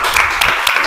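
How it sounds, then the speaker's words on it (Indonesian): Students in an eighth-grade classroom clap together, a brief, loud, dense burst of applause close to the microphone. "tepuk tangan untuk Ahmad Aditya."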